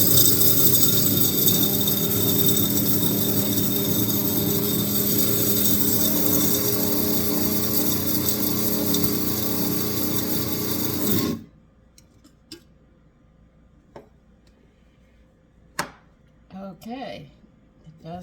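An electric spice grinder loudly grinds whole spices for garam masala in a steady, harsh whirring rasp that stops abruptly partway through, followed by quiet kitchen handling noises and brief talk.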